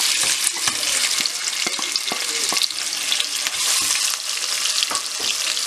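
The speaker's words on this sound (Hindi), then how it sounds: "मैं इसमें जो प्याज कटे हुए थे वो डाल रहा हूँ।" Chopped onions frying in oil for an aloo matar curry, a steady loud crackling sizzle with occasional stirring clinks from the pan, no voices.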